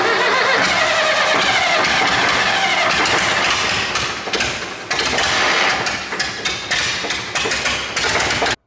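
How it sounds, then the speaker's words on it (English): A British McCormick diesel tractor engine under repair starts and runs, a loud, close, rough clattering rumble with sharp rhythmic knocks that dips briefly midway before steadying. "Got the tractor to run on its own power, you turn key, it heats it up, it runs"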